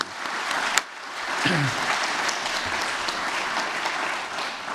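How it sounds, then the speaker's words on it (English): Audience applause rings out at a building-sector update event, a steady wash of clapping from a room full of people that holds at an even level throughout, with one sharp bang near the start. "A round of applause again for the people that have spoken today"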